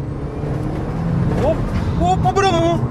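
A 225 hp Audi TT Quattro fitted with an aftermarket air filter and exhaust drones steadily in the background while excited voices talk and shout over it.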